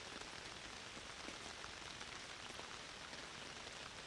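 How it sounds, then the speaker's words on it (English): Rain pattering on a tent cover, a faint, steady wash of dense droplets with no pauses and no voices. "Let the sound of the droplets that patter down on the cover of this tent create a bed for your mind to rest within"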